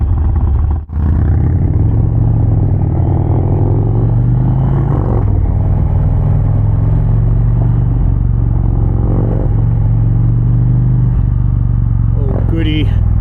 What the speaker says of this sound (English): Got the blockhead exhaust on it. Sounds pretty good.